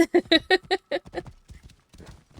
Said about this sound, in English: He just went off on a horse without me